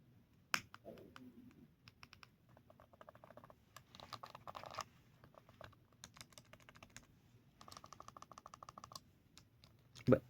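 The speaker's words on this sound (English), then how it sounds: "So these buttons are very clicky, extremely clicky." Buttons on an RG35XXSP handheld game console clicking in quick, irregular bursts of sharp taps at close range, with a louder click at the very end.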